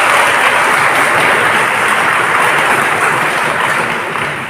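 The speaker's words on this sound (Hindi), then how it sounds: "एंड एक बार अपने मम्मी पापा के लिए ताली बजाएंगे।" A school seminar audience of students at a government higher secondary school applauds their parents, a steady dense crowd clapping that stays loud throughout and tapers slightly at the end.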